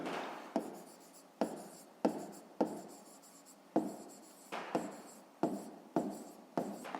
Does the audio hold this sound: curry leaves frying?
no